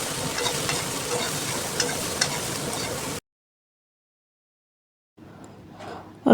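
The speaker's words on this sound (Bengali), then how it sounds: "তরকারিতে লবণ এবং হলুদ দেওয়ার পর কিছুক্ষণ ভেজে নেব" Bitter gourd curry sizzles in a pan with salt and turmeric under faint stirring for about three seconds, then cuts to silence before a quieter burst of cooking noise returns.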